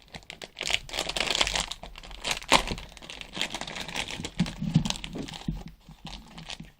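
A set of plastic zipper bags is handled up close, giving bursts of crisp crinkling and rustling with short taps and pauses between movements, and no talking.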